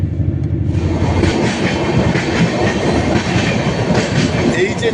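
A moving passenger train rolls on past Dhanbad, with loud steady rumble and rhythmic clickety-clack of the wagons heard from inside the coach.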